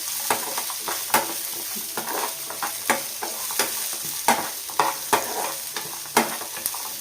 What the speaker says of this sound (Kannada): ಬೆಳ್ಳುಳ್ಳಿನ ಸಹ ಹುರ್ಕೋಬೇಕು